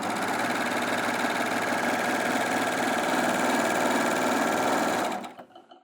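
A Baby Lock Acclaim overlocker stitches cotton jersey with a loud, even, rapid mechanical whir of steady stitching close up, which stops abruptly near the end.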